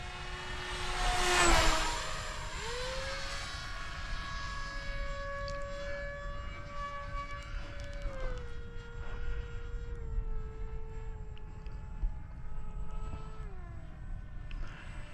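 An FF-35V2 RC plane with a 6-inch propeller flies overhead, its motor producing a thin, droning whine that rises loudly as it passes close, then holds steady and shifts pitch as it moves away.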